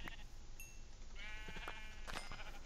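Sheep in the Minecraft video game bleat in a few short cries, clear and close over a steady background hum, with no talk.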